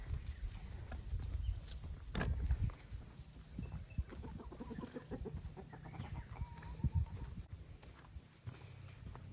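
Chickens on pasture cluck and murmur nearby in a low, continuous chatter, with occasional louder squawks over outdoor background noise.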